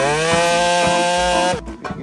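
A CNC-ported Husqvarna 592 chainsaw with a pipe exhaust screams at high revs, loud and close, with a steady rising whine that abruptly drops off and sputters near the end.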